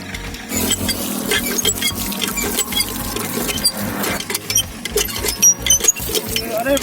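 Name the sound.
roadside hand pump being operated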